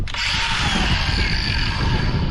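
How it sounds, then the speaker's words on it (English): An angle grinder with beeswax on the blade cuts through an aluminium fuel tank on a Quintrex 420 Renegade boat, a loud, steady, close high-pitched whine with gritty rasping underneath throughout. "If you run your grinder blade through it, cuts through the aluminium a lot easier than without it."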